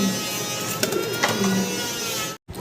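Native golla pigeons cooing close by in a steady, continuous backdrop of low throaty calls, with a few brief higher bird notes scattered through and a sudden short dropout near the end.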